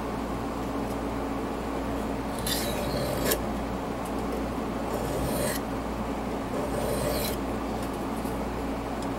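Stone or file rasping as a secondary bevel is sharpened on a gut hook knife, three short bright scraping bursts spaced a few seconds apart over a steady background hum, close and moderately loud.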